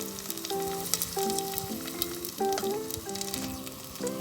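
Uncooked carrot pieces sauté with onion in a pan, a close, dense sizzle with stirring scrapes and brief tonal squeaks of the utensil against the pan, with no talking.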